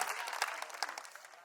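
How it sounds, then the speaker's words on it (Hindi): A crowd at a comedy poetry gathering in Varanasi bursts into brief, lively clapping, sharp claps close together that fade out quickly. "एक बार ताली बजा के इनको आदेशित करें भैया"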